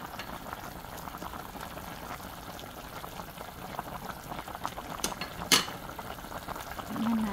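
A pot of chicken soup with vegetables such as chayote boils steadily on the stove, with soft, continuous bubbling and a few faint clinks.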